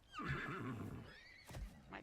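A horse neighs in Pathfinder: Wrath of the Righteous, a fairly loud whinny with a falling, wavering pitch, then a short snort and light hoof clip-clop near the end. Nobody speaks over it.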